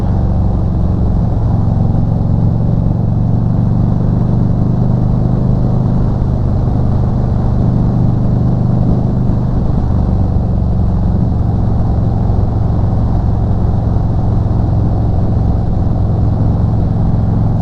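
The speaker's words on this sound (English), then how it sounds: "I really enjoy the sound of these mufflers. This is the Dean Speed Rampage slip-ons" A motorcycle fitted with Dean Speed Rampage slip-on mufflers rumbles as a loud, continuous low drone while riding, holding a steady, even note throughout.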